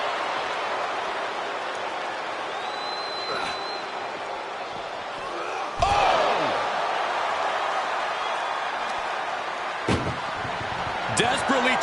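In a WWE wrestling ambulance match video game, a metal ambulance door slams loudly once midway, with further thuds and bangs later over a steady crowd roar.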